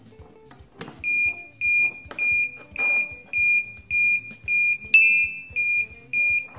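A buzzer on a simple homemade power-outage alarm circuit fitted with a red LED sounds in a steady series of loud, shrill beeps, about one per half-second, close by with faint clicks underneath.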